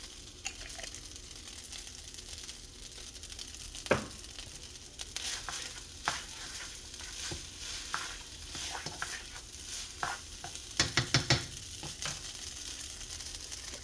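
Chinese restaurant-style fried rice with oyster sauce sizzles steadily in a hot pan, with scattered sharp scrapes and clinks of a utensil stirring and a quick burst of rapid taps near the end; no talking.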